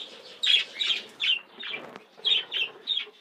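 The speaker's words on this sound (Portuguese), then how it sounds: "são periquitos do projeto Corpo Claro do Texas" Budgerigars of the Texas clearbody mutation chirp in a breeding colony, several short bright bursts of warbling calls in quick succession, fairly close, with a low murmur of other birds beneath.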